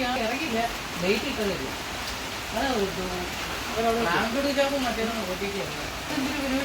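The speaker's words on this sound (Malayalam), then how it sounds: "മഴ കാരണം ഞങ്ങളെല്ലാം ഇവിടെ കയറി കുത്തിയിരിക്കണം നല്ല മഴ" Heavy rain pours down around people sheltering in the sit-out of a house, a steady loud hiss of drops on surfaces that continues under their talking.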